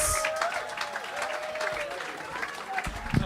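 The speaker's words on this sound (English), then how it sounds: "start the round of applause" A comedy club audience claps and cheers to welcome a comedian onstage, a dense round of applause that carries the whole way through, with some whoops and shouts rising out of the crowd.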